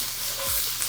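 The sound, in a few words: stirring peppers, onion and garlic in a skillet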